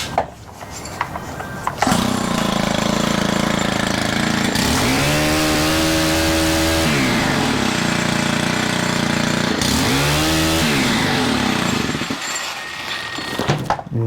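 A Stihl weed eater with a newly replaced clutch drum starts and runs, its two-stroke engine roaring loud and close, revving up and down in several surges before dropping back at the end.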